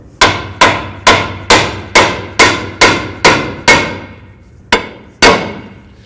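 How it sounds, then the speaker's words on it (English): Loud, close hammer blows on a 2009-13 Mazda 3 front suspension knuckle, nine in quick even succession, then a pause and two more strikes, each ringing briefly. "I'm going to give this a couple bonks with my hammer"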